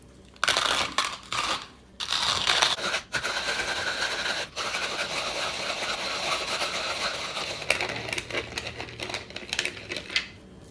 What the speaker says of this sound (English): Then I'm gonna hop the grinder back on, and then I'm gonna grind away.